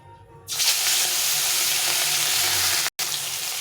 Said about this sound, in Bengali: তেলটা ভালোভাবে গরম হয়ে গেছে এখন মাছগুলো ভেজে নেব